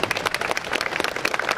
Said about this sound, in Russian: Мне кажется, что они достойны аплодисментов.